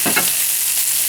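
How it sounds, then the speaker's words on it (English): Fennel and onions being flamed in a hot pan beside a tomahawk steak, giving a loud, close, continuous sizzling hiss with a couple of soft knocks at the start. "I'm gonna flame my vegetables."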